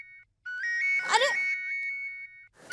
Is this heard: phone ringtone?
yes